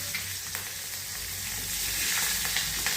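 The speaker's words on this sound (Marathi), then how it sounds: "त्याच्यानंतर लसूण आणि मिरची घालून घ्यायची" Curry leaves, garlic and green chili sizzle steadily in hot oil in a pan, a continuous close frying hiss with no talking.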